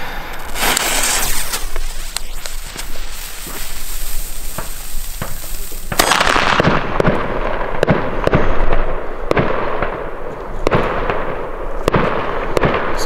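A New Year's fireworks battery goes off at night, a dense loud crackle and hiss that shifts into rapid repeated bangs and pops, sustained and fairly near.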